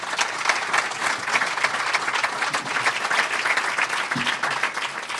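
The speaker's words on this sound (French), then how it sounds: "On peut applaudir nos 4 panélistes." Conference audience at a tiny-house colloquium in Sherbrooke applauds four panelists: steady, full-room applause of many hands, sustained and even throughout without pause.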